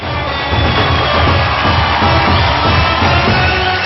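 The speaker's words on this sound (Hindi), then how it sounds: "तो जोरदार तालियां हमारे जजेस के लिए।" A studio audience on the India's Got Talent show cheers and applauds for the judges, a loud, steady crowd roar with claps and whoops sustained throughout.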